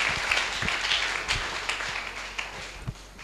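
A church congregation claps and applauds in praise, a dense, uneven patter of hands with a few louder individual claps, fading slightly toward the end.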